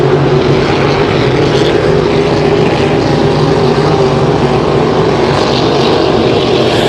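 Race cars roaring past on the front stretch of an oval at Syracuse, a loud continuous engine drone filling the scene, one car running fourth with a slightly rough, off-song engine.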